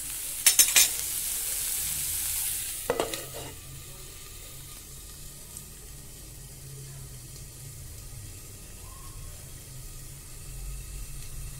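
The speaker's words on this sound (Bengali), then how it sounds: "ঢাকা দিয়ে আমি ভাজা ভাজা করে নেব" Spices and a cauliflower chop mixture fry in a covered pan with a soft, continuous sizzle. A few sharp clanks of lid or utensil come early, then the frying settles into a quiet, steady hiss.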